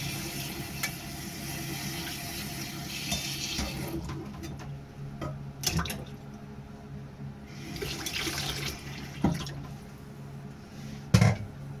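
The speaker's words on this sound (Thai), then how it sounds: "เปิดน้ำเย็นใส่พักมันสิได้เขียว" Cold tap water runs steadily into a sink over blanched bok choy while it is being prepared for som tam, a continuous close wash of flowing water with a few brief clatters and no talk.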